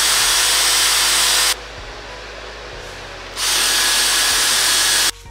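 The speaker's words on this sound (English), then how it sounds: "I think what I'm going to do is use the drill bit and make it a little bit wider" A loud, steady Ryobi cordless power drill whines at high speed widening a hole, pauses briefly, then revs up again before cutting off.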